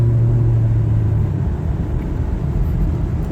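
A big lifted Dodge truck drives along, its engine a steady, loud low rumble with road noise throughout and no talking.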